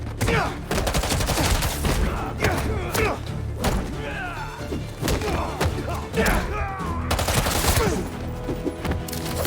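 Gunfire from enemies shooting at Spider-Man in the Spider-Man 2 game on PS5, rapid bursts and volleys with heavy thuds and crashes running almost nonstop, loud and dense throughout with a little voice mixed in.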